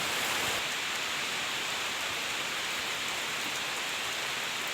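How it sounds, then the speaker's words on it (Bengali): Heavy cyclone rain pours down steadily, a dense, continuous hiss of downpour with no pauses and no voices. "মুসলধারে বৃষ্টি বা প্রবল বৃষ্টি"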